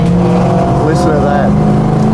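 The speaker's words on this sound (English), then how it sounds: "There's nothing like the sound of that big grunty V8." A classic Australian muscle car's V8, a Holden Torana XU-1 or Ford XY GT Falcon, revving with a deep, continuous burbling roar, close and loud throughout.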